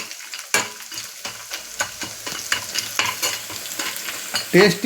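Pieces of dried meat fry in a pan while a utensil stirs them, giving repeated scraping knocks at an uneven rhythm over a soft, steady sizzle, with no voices.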